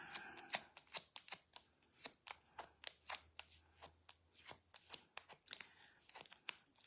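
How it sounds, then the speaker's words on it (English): A bone folder drags along small pieces of craft paper to curl them, making a quick series of close, crisp rustling scrapes in an irregular rhythm, faint overall. "we're going to use our bone folder and put some height and curl them up a little bit"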